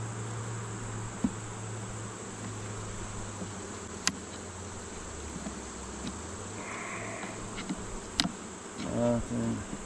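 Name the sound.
Caucasian honey bees buzzing during a hive inspection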